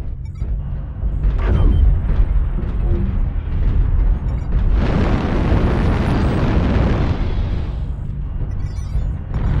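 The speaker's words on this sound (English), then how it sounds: "New target acquired. Artillery strike online." Heavy artillery strike in a video game: deep rumbling blasts and a long roaring eruption that swells midway and trails off, loud and dense throughout.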